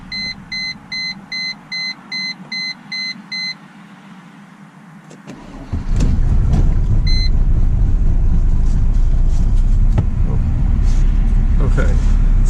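A Mercedes W210 with the OM606 diesel, 200,000 miles and noisy injectors, sounds a string of regular glow-plug warning beeps, then cranks briefly and catches into a loud, rough, clattering idle that runs steadily to the end.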